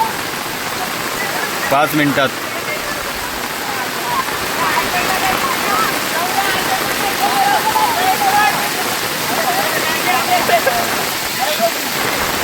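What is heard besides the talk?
heavy rain in a village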